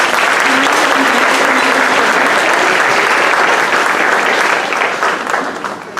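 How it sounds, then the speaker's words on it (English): A school assembly audience gives kindergarten students a round of applause: loud, dense, continuous clapping that fades slightly at the end. "Let's give kindergarten a round of applause"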